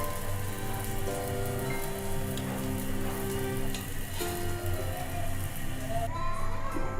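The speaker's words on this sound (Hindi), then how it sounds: "टिक्कियाँ हमारी फ्राई हो गई हैं। अब हम इनको निकाल लेते हैं।" Shami burger tikkis fry in hot oil on a tawa, a steady close sizzle that sounds like rain, with faint clinks at moments and no talk.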